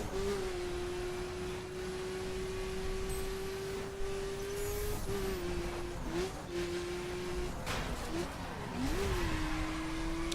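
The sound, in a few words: hot hatch car engine and wheel spin in The Crew video game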